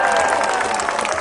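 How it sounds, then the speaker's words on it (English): Dense, close crowd applause with scattered cheering at an antiwar rally, loud and continuous through the brief moment. "Give a round of applause to all of those who came here."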